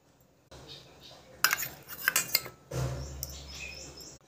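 Sour yogurt scooped from a container with a spoon. Several close metallic clinks and scrapes come in short bursts against quiet background noise.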